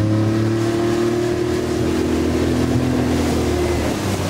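A Yamaha 40 hp four-stroke outboard motor with freshly cleaned carburetor jets roars steadily near full throttle, a loud sustained engine drone with strong low harmonics and no speech over it.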